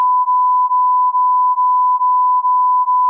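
A steady censor-style bleep, a pure tone held continuously for about three seconds with slight regular pulsing, loud and alone with no talk.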